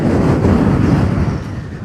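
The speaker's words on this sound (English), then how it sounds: "The wind is literally blowing me off the rock." Strong wind on an exposed rock buffets the microphone in a steady, loud low rumble that eases slightly toward the end, with no voices.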